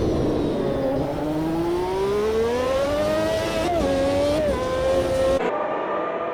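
A McLaren MP4/6 Formula One car's high-pitched engine screams in a racing game at the Brazil circuit, rising steadily through the revs with brief dips at gear shifts before cutting off abruptly near the end.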